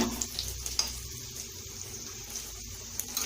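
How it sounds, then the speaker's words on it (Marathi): Soft steady sizzling of a tempering in oil in a pan, a continuous crackling hiss with a few faint clicks, no voices. "फोडणी छान बसली"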